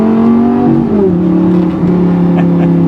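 Lamborghini engine on a racetrack revving hard from up close, a loud, continuous drone that drops in pitch at each gear change and then climbs again, with no talk over it.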